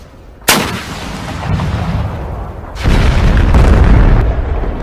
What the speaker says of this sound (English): Artillery! Fire up on that hill!